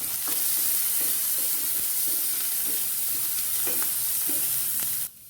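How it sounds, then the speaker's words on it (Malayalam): Chopped onion and a sprig of curry leaves sauté in hot oil, giving a steady, loud sizzle with occasional soft stirring scrapes, close by, ending abruptly near the end. "നമുക്കൊരു ചെറിയ സവാള അരിഞ്ഞതിട്ട് കൊടുക്കാം. കൂടെ തന്നെ ഒരു തണ്ട് കറിവേപ്പിലയും കൂടി ഇട്ട് നല്ലപോലെ വഴറ്റാം."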